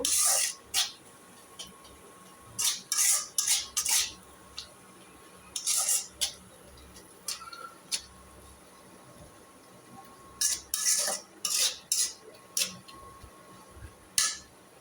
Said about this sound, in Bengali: এখন লবণ দিয়ে কিছুক্ষণ নাড়াচাড়া করব।